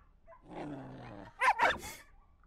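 A dog makes a drawn-out throaty vocal sound, then gives two sharp, close barks in quick succession before going quiet.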